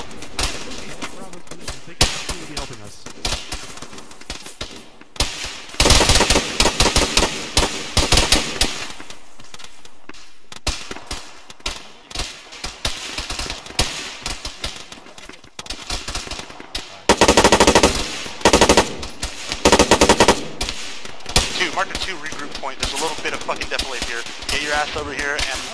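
Bursts of rapid machine-gun fire in a video game hillside firefight, loud clustered volleys separated by quieter stretches, with voices talking between and over the shooting.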